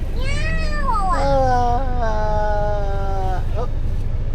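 A cat meows in several drawn-out, wavering cries close by, one long call sliding downward and ending with a short final meow, over low background noise.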